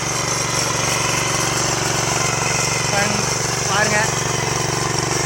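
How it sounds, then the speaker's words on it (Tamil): A weeding machine runs in a fodder field, its engine droning steadily and loudly throughout, while someone talks over it. "இப்போ மிஷின் போட்டு களை எடுத்துகிட்டு இருக்கோம்"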